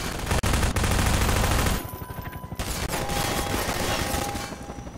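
Gunfire erupts in the Half-Life 2 video game: a dense burst of rapid automatic shots up close, a brief gap, then further clattering bursts and crackling impacts continue in the background.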